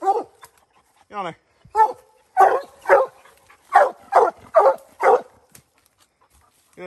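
Hunting dogs treeing bark loudly and close in a steady series of deep, rhythmic bays, with a few shorter yips between them and quiet pauses between the bursts.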